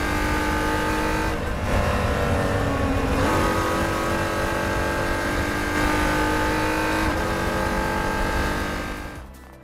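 A racing car, an open-wheel F1-style machine, powers through a final corner: a loud, continuous high-revving engine whine with several quick gear-change dips and rises, close and sustained before easing off at the end.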